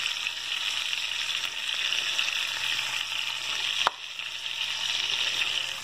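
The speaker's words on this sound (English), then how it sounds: "let them cook in with that catfish" Onions, mushrooms and green onions fry alongside catfish in a pan, giving a steady close sizzle throughout with one brief clink near the end.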